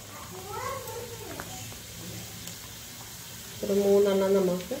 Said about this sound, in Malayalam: അടുപ്പത്ത് എണ്ണ ചൂടാകാൻ വെച്ചിട്ടുണ്ടായിരുന്നു അപ്പോൾ നല്ലോണം ചൂടായിട്ടുണ്ട് അതിലേക്ക് നമ്മൾ ഒരെണ്ണം എടുത്ത് പതിയെ ഇട്ട് കൊടുക്കുക